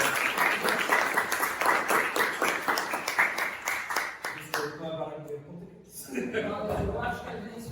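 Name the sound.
audience applause after a lecture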